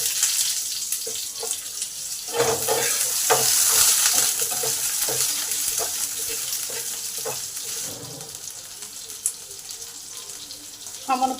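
Potato pieces dropped into hot oil with fried bay leaf, cumin and chilli sizzle loudly in a pan, with occasional stirring scrapes and brief quiet talk.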